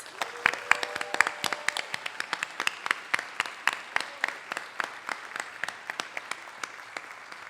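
A large audience at a city community appreciation celebration claps in a long, loud round of applause, dense hand claps rolling steadily for several seconds with a few sharper individual claps standing out near the front.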